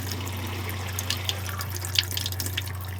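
Water running from a tap inside a camper van, a steady close hiss with light splashing and a few small drips over a constant low hum, no voices.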